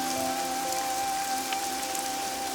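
Raindrops patter steadily on a surface in an even, dense hiss with no distinct individual drops, accompanied by a faint sustained tone in the background.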